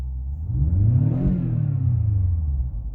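A 2016 BMW X6 M's engine in M mode revs up and falls back in one smooth, loud sweep, deep and close with a throaty rumble.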